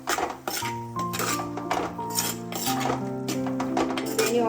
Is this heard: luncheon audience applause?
no